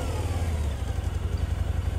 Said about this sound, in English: fire up their engines,